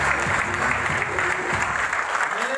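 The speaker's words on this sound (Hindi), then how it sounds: "उस दोस्त के लिए तालियां बजाओ यार।" A crowd at a business achievers' gathering in Gurugram applauds loudly and continuously, a dense wash of clapping with faint voices in the background.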